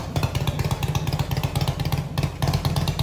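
Harley-Davidson beach cruiser motorcycle fitted with fishtail exhausts and needing a tune, idling and blipping close by with a loud, lumpy, uneven V-twin pulse that stutters and surges in irregular bursts.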